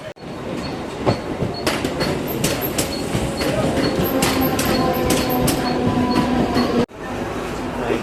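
A train pulls into a railway station on the way to Kalyan, a loud rumble with rhythmic clickety-clack and metallic clanks and squeals, steady and close, with a brief cut near the end.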